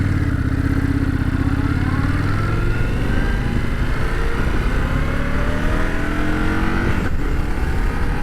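A 2025 Indian Scout 101 motorcycle on the move, its engine droning loud and steady close by, with rising and falling pitch as it accelerates and shifts through gears, overlaid by constant wind rush.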